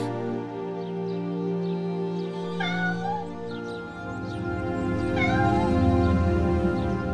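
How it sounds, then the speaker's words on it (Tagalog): A cat meows repeatedly outdoors in bitter cold with heavy snow falling, two rising, wavering cries standing out over a steady low background hum, close and fairly loud. "Naku po, kaninong pusa ito?"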